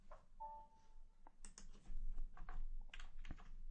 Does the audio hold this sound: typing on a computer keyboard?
yes